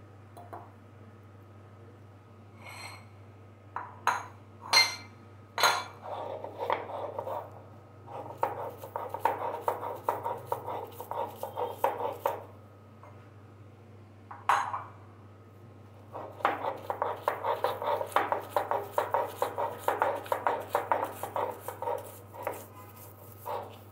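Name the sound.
grinding taki fish into a paste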